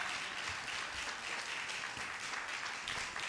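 Church congregation clapping for their bishop, a dense, steady wash of many hands applauding together, close and sustained with no talk.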